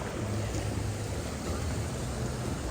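Steady broadband rush of a waterfall at ICON Park in Orlando, Florida, heard close and continuous with no clear voices.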